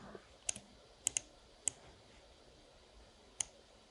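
Computer mouse clicking while editing in Adobe Premiere Pro, a handful of sharp, quiet clicks spaced irregularly, some in quick pairs, over a near-silent room.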